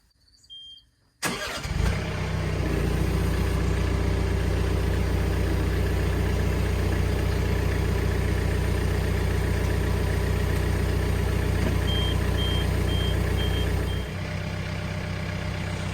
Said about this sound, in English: So now I've got to start the tractor back up